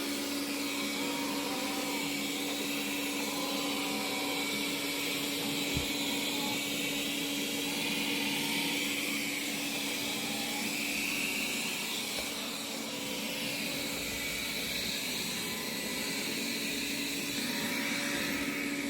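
A robot vacuum cleaner runs continuously with a steady whirring hum and airy hiss, close and unchanging for a long stretch.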